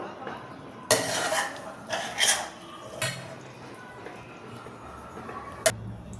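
Patvadi stuffing scooped from a pan onto a plate in a home kitchen: a few sharp metallic clinks and clatters of utensils against dishes, spaced irregularly, close and moderately loud over quiet room tone.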